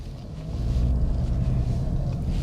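Jaguar F-Pace SUV pulling away from rest, a low engine and road rumble building into a steady drone heard from inside the cabin.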